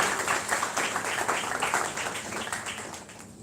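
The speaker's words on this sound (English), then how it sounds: "Please welcome Sir Bhavesh Kothari with a big round of applause." An audience at a college orientation event applauds to welcome a speaker, a dense patter of many hands clapping that swells and then gradually thins and fades toward the end.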